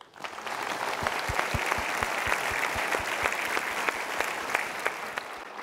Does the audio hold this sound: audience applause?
yes